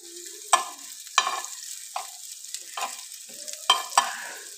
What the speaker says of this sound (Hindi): प्याज को हमें थोड़ा सा फ्राई करना है।